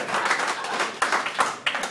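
A comedy-club audience claps in a dense, continuous burst of applause, close and moderately loud, with no voices standing out.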